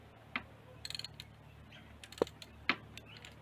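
A threaded part being carefully worked loose on an e-bike, heard as a few sparse, close metallic ticks and clicks at irregular intervals, fairly faint, with no talk.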